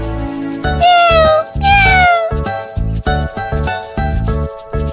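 Two drawn-out, high kitten meows rise and fall over light music with steady beats, fairly loud and close.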